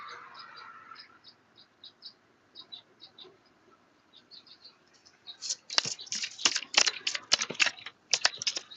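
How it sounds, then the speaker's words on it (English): Soft clicking taps at first, then a burst of rapid, crisp riffling and flicking of a tarot deck being shuffled close by, with no voices. "I'll go ahead and shuffle the animal spirits deck."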